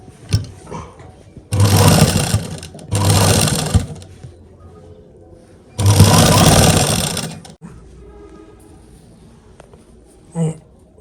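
A sewing machine stitches cotton lace onto a dupatta in three loud, close bursts of rapid mechanical whirring, separated by short pauses with quiet handling of the fabric, and a small click near the end.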